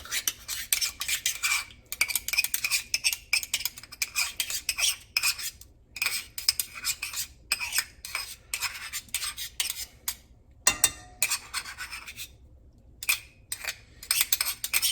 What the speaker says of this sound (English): All right, let's scrape that out.